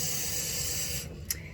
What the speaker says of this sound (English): Here, I'm going to take water from my sink.